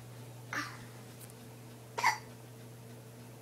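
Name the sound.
baby hiccups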